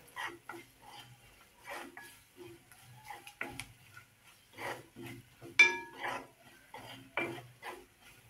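Spoon stirring and mixing turmeric, coriander powder and other spices in a pan for cashew kaju curry, soft repeated clinks and scrapes of metal on the vessel in an irregular rhythm, fairly quiet and close.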